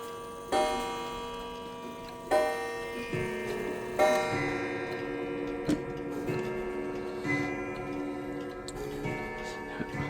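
An Ansonia pendulum clock with an eight-day key-wound movement ticks in a steady, close rhythm, punctuated by several resonant chime or strike tones that ring out and decay, with faint talk underneath.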